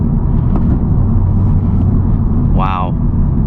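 A Honda Civic Type R accelerating in fourth gear, a loud, steady low engine drone heard from inside the car, with a brief tonal chime near the end.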